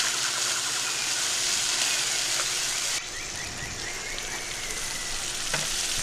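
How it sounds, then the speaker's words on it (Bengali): Spices and ginger paste sizzle and fry steadily in a pan for chenar dalna, a continuous close crackle with faint stirring scrapes and a slight drop in level partway through. "খুব ভালো করে মশলাটা কষিয়ে নেব।"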